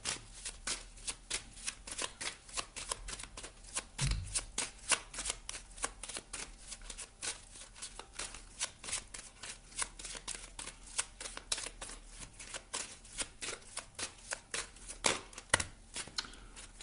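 Tarot cards are shuffled by hand in repeated crisp riffling bursts, a quick irregular rhythm of sharp flutters close to the listener, with a soft low thump partway through and no talk.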